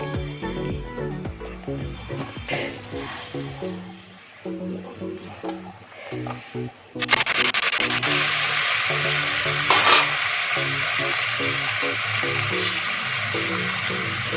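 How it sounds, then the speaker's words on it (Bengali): Brinjal slices frying in white oil with chilli and ginger, a quieter bubbling start that bursts into a loud, dense sizzle as the slices hit the pan, with utensil scraping throughout. "এবার আমি বেগুনগুলো একটা একটা করে ছেড়ে দিচ্ছি"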